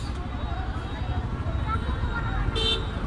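Dhaka street traffic rumbles steadily under a busy crowd murmur, then a single short car horn toots sharply near the end.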